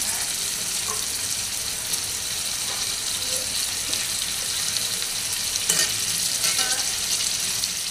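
Teasel gourd and chicken sizzling and being stirred in a pan, a constant loud close hiss of frying with occasional scraping strokes of the utensil layered on top.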